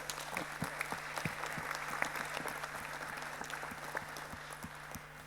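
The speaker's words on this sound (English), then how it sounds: "So this last round of applause is for you, actually." A conference plenary audience applauds in a steady wash of many hands clapping, moderately distant and continuous for several seconds over a faint hum.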